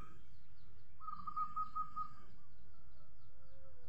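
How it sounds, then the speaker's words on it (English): A cuckoo's call in a morning village setting, a short run of steady repeated notes at moderate distance, over a constant low background rumble. "the cuckoo we call"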